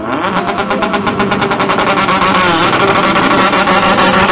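Loud roaring engines of cars and motorbikes racing past at speed on a city ring road during a street motor festival, a continuous close rush of revving motor noise with no talking.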